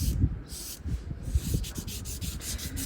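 A nail file rasps back and forth across a fingernail's free edge, bevelling it in quick, close, rhythmic strokes with no talking.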